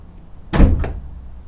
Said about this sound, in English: Once you see that hood come up, you close your door